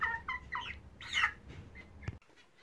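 Young chicks kept indoors on a smallholding because it is too cold outside, cheeping in short high chirps, several overlapping, fairly close and soft, with a brief sharp knock near the end.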